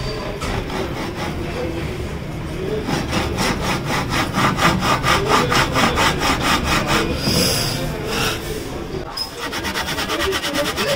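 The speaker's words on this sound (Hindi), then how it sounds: "आरी के बाद में इनको काट लेना है" A hand saw cuts wood for harmonium keys with steady, close back-and-forth strokes that rasp loudly and evenly, briefly pausing near the end before resuming; some talk may sit beneath it.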